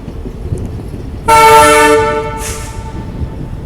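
A Goa express passenger train at night, with a loud sustained multi-tone train horn sounding for about two seconds, then trailing off, over a steady low rumble of rolling wheels and carriages.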